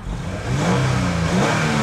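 A 2015 Toyota Sienna SE minivan's 3.5-liter 2GR-FE V6 engine fires up and settles into a steady, close, mid-pitched hum with a low rumble, continuous and without talk.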